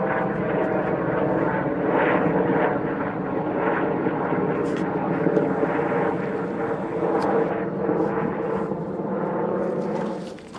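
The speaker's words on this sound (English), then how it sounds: "We've got a helicopter." A tour helicopter flying over desert near Phoenix, Arizona, a steady rumbling rotor and engine drone that swells and holds for the whole stretch, fairly close and loud, with no talking.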